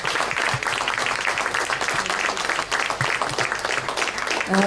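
A crowd at a World Hindi Day gathering applauds three young performers after their play, producing a thick, continuous patter of many hands that stays lively throughout, with a few louder claps standing out near the end.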